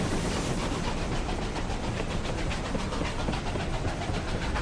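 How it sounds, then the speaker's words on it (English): In the video game Desperados III, a train approaches with a steady, loud rumble and a rhythmic clickety-clack of wheels on rails. The noise stays constant throughout, with no voices. "Here comes the train."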